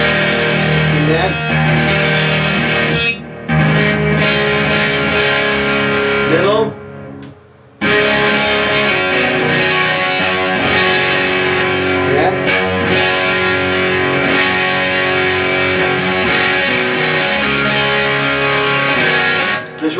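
A Music Man Axis electric guitar is played through heavy distortion, with sustained overdriven chords and notes, a couple of short pauses, and a voice speaking in between.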